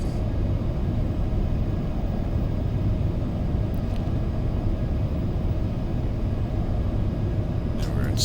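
An Embraer E175 jet taxiing slowly at Atlanta airport in the X-Plane 12 flight simulator, giving a steady, dense low engine rumble that holds at an even level throughout.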